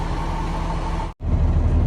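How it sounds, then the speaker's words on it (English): A semi tractor's diesel engine idles steadily at close range while its air brakes build pressure, a continuous low rumble that cuts out for an instant before resuming. "Let the truck warm up, let it catch the air, them lights will go off"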